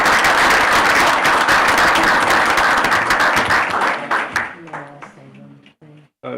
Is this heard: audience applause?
yes